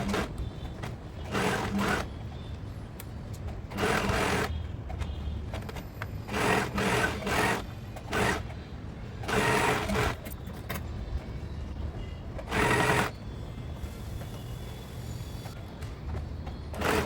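A sewing machine stitches the front part of a crop top in a series of short, loud bursts separated by quieter pauses, with no talking.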